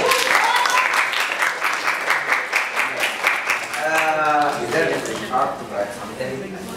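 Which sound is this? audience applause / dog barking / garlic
audience applause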